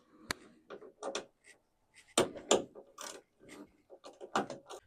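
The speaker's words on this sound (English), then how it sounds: "We're going to start out with taking out this bolt and the bolt at the very bottom." A ratchet with a 10 mm socket backs out a tail light bolt on a third-generation Toyota Tacoma, giving a close series of quick clicking bursts separated by short pauses.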